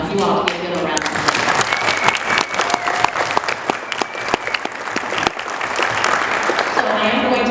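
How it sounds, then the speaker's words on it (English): An audience claps loudly for elected officials at an Oklahoma Democratic Party panel, a dense, sustained round of applause lasting several seconds, with a few voices and cheers mixed in. "I want you all to give a good round of applause."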